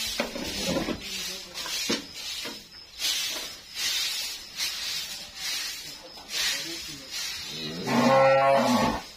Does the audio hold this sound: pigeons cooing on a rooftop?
no